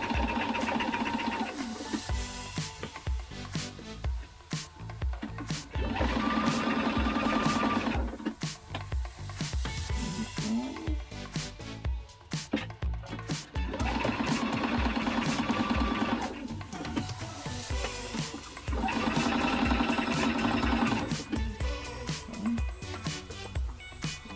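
A sewing machine stitches straight across a hooded towel for a personalized baby gift in several fast whirring bursts, each run a few seconds long and separated by short pauses, loud and close with no talking.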